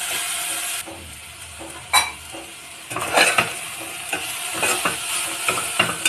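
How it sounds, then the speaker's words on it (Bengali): Chicken soup is stirred in a pot, with a low sizzle underneath and scattered clinks and scrapes of a utensil against the pot that come more often in the second half. No one speaks. "একটু নাড়িয়ে নেব।"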